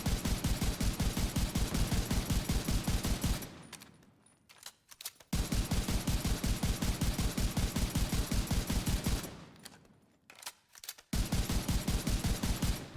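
A rifle in the video game The Division 2 fires in rapid, loud sustained bursts, roughly three seconds each, separated by short pauses and one longer gap.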